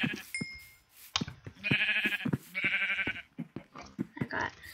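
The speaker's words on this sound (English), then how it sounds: "oh, sheep" Several Minecraft sheep bleats in quick succession, close and clear, with short pauses between the wavering calls.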